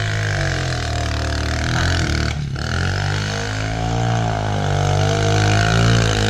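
A Snoto snow motorbike engine labors in second gear through deep powder, a loud continuous drone that dips briefly and then climbs in pitch as it strains, no voices over it.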